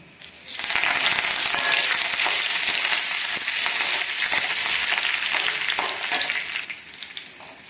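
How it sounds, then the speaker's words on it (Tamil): Curry leaves crackle and sizzle loudly in hot tempering oil with urad dal and cumin, a dense continuous frying hiss with sharp pops that swells after the first half-second and holds steady throughout, no voices over it. "கருவேப்பிலையை போடுறேன்"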